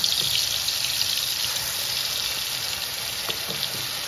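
Masala fries in hot oil with a loud, dense, continuous sizzle that stays steady for a few seconds, a couple of faint stirring knocks underneath.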